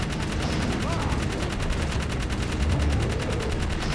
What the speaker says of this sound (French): il tire dans le vide